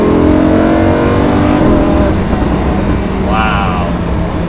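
Lamborghini Huracan LP 610-4 with its V10 engine revving hard under acceleration, a loud rising engine note climbing through the gears, with a shift near the middle and another climb, heard from inside the car over road noise with brief talk.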